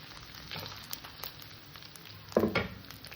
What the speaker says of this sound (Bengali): একটু কষে নেব আদা রসুন